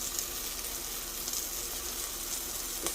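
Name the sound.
sautéing cherry tomatoes with dry parsley in a pot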